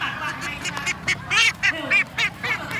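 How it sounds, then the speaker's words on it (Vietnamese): Ducks quack in short, loud bursts during a duck-catching game, about half a dozen calls in quick succession over a busy outdoor background. "đây là bắt vịt địa hình"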